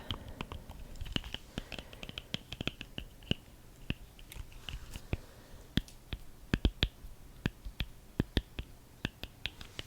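A plastic resin art set container is opened close up, giving a quiet, irregular series of crisp clicks, snaps and small tapping sounds throughout.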